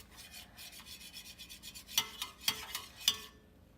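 Scrambled eggs with parmesan are stirred in a pan, the utensil making steady, close rasping strokes that grow into several sharper scraping swipes near the end, with no talking.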